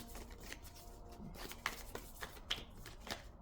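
A deck of cards being shuffled repeatedly, with soft riffling bursts and a few sharper snaps, close and fairly quiet.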